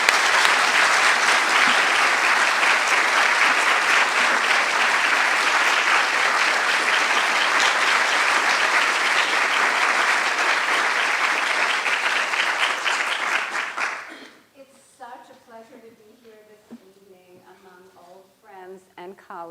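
An audience in a lecture hall applauds steadily to welcome a speaker, a dense sustained wash of clapping that fades out after about fourteen seconds, followed by a single voice beginning to speak.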